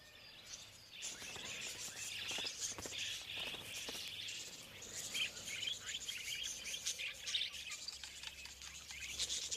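Wild budgerigars along a riverbank in Australia's Central Ranges: busy, faint twittering and quick chirps from several birds at a distance, layered over a soft outdoor background.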